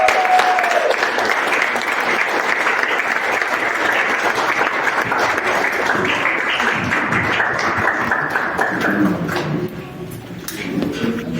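A church congregation applauding, a dense, steady wash of clapping that carries on for about ten seconds before thinning out, loud and close.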